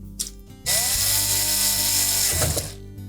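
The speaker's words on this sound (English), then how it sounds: "We'll reinstall the two mounting screws" Power screwdriver driving mounting screws into a GE range control, a steady whirring motor burst of about two seconds with faint clicks before and after.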